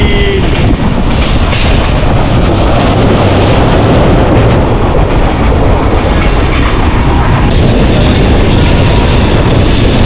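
Kanchankanya Express running through tea gardens near New Mal Junction, a close, continuous rumble with rhythmic clickety-clack of wheels on rail joints, loud and unbroken from start to finish.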